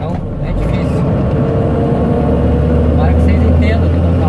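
Truck engine noise on the BR 116 highway near Cajati, a loud, steady low rumble that continues through the whole clip, with a deeper drone building toward the end.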